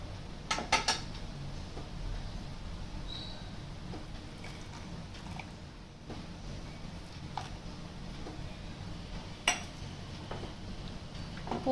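A spoon stirs lemon juice into hot milk in a pot for rasagulla, giving soft swishing and a few sharp metallic clinks against the pot, near and fairly quiet with no talking.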